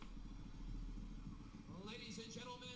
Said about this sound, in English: Ooh, we got a motorcycle. I can hear it.